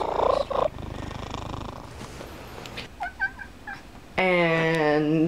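A cat purrs in low rumbling bursts at the start, then gives a few short chirps and a loud, drawn-out meow at the end, close and clear.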